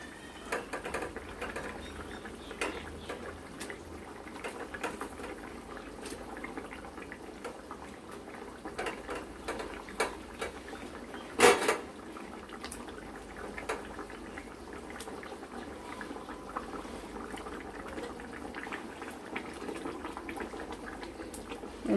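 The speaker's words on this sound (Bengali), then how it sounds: "ঝোলটা ফুটে গেছে" Katla fish curry gravy boiling in a pan, a soft continuous bubbling and pattering that stays fairly faint and steady throughout, with one brief sharper click midway and no voices.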